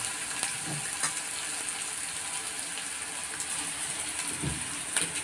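Onion and green chili fry in hot oil in a home kitchen, a steady crackling sizzle running throughout with a few louder spits and pops, no voices.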